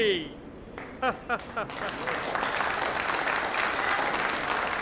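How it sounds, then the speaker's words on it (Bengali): Applause from an audience at a stage magic show, a few voiced sounds at first and then a broad, steady wash of clapping that carries on to the end. "হাততালি"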